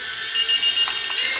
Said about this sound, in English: once you press it for a couple of seconds, it starts beeping